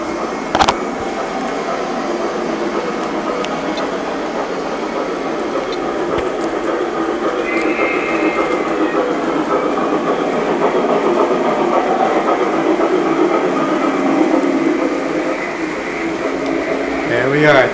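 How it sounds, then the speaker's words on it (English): Three model trains run together on a home layout with a steady mechanical whir and rattle of wheels on track, continuous and close, while people talk over it. "Three trains running."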